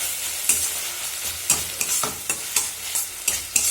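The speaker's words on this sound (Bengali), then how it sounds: "এবার মশলাটাকে খুব ভালো করে কষে নেব।" Spiced tomato masala with salt, turmeric, chili powder and sugar frying in a pan, a steady close sizzle broken by repeated scraping stirs at a regular rhythm.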